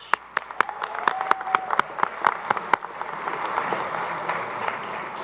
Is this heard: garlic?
no